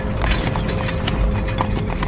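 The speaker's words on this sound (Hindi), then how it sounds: "घोड़े दहशत में हिनहिनाते हुए अपने पिछले पैरों पर खड़े हो गए।" Horse hooves clip-clop steadily as a horse-drawn carriage rolls along, close and loud, with a brief whinny from the horses rising over the rhythmic hoofbeats.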